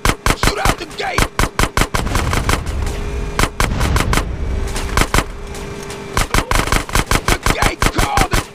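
Rapid bursts of automatic gunfire shoot out a sewer gate in the video game GTA San Andreas. The cracks are loud and close, coming in fast rhythmic volleys with a brief lull in the middle.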